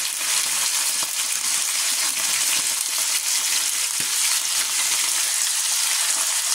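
Meat for three-meat cannelloni sizzles and fries loudly in a casserole pot, with a dense, steady crackle and occasional stirring clinks and no voices.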